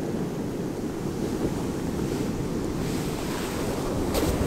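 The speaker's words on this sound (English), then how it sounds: "I almost got hit with the wave on that one." Ocean surf breaking and washing along a sea glass beach, a steady broad roar with wind buffeting the microphone close up.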